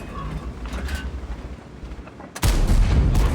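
A single heavy tank cannon blast in World of Tanks booms out suddenly after a stretch of quieter rumbling, followed by a sustained roaring rumble.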